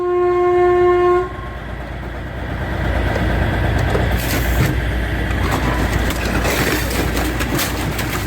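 A train horn sounds briefly, then a rumbling train passes with steady rolling noise and clatter, fairly loud and close.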